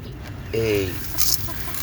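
A desi laying hen in a backyard poultry setting gives one short, close cluck in the middle of a faint farmyard background.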